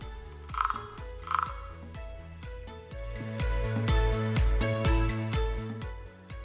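Two loud frog croaks ring out over a rhythmic musical accompaniment that continues steadily throughout.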